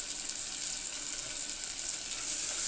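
Thin-sliced tomato sautéing in a pan for channa pulao gives a steady, bright hiss of frying oil that stays even and close, swelling slightly near the end, with no voices.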